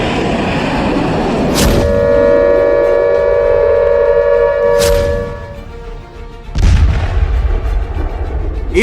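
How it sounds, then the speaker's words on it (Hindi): Israeli F-35I air strikes hit Iranian targets: three loud, sharp blasts land amid constant heavy rumble, with a sustained tonal whine between the first two. "इजरायल अपने F-35I स्टील्थ फाइटर से ईरान के ठिकानों पर चुन कर बम मार रहा है।"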